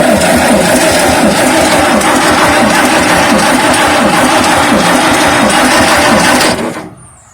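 A Wisconsin 30 HP engine on a Mayco concrete pump runs loud and steady with a rough, chugging idle, revived after years of sitting, then cuts out and fades near the end.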